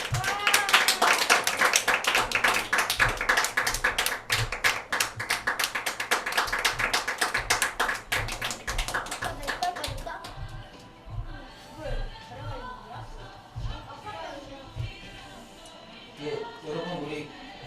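A church congregation claps together for about ten seconds, a dense, loud run of hand claps in a Sunday service that fades into scattered sounds and quieter activity.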